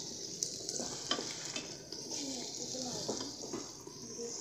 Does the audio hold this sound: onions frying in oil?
yes